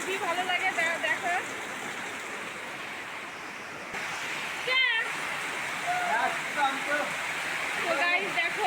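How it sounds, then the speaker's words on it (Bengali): Heavy rain pouring down steadily in a dense, even wash of noise that fills the whole stretch, with voices talking over it at moments. "ওই দেখো কত জোরে বৃষ্টি হচ্ছে, অনার্গল বৃষ্টি হচ্ছে"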